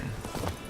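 Roach the horse's hooves in The Witcher 3, a brief run of soft clip-clop steps, near and moderately quiet.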